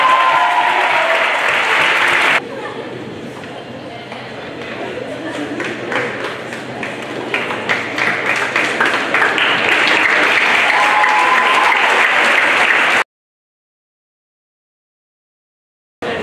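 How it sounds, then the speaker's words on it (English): Audience applause at a university athletic awards ceremony, sustained clapping from a large crowd that drops briefly, then swells steadily for about ten seconds before stopping abruptly. "let's also give them a great round of applause for a great night"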